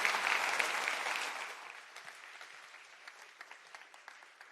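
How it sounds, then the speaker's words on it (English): Conference audience in London applauding a speaker at the end of a talk, starting as full, dense clapping and thinning into scattered claps as it fades out. "Big round of applause for Lamis."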